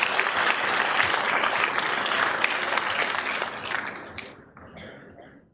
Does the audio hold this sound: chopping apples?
no